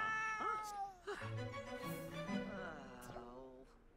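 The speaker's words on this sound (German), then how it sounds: "Wie diese Katze hier nervt, ne?" A cat in The Sims 4 meows repeatedly, several drawn-out, whiny calls close and clear, overlapping one another with a plaintive, insistent tone.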